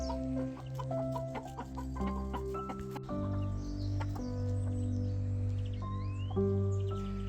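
A Silkie hen, an ancient small Chinese breed, clucks in a steady run of short, close calls, with a few softer bird chirps in the background.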